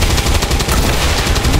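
Rapid burst of automatic gunfire from the turn-based strategy game XCOM 2, loud and continuous with dense repeated shots throughout, no talking.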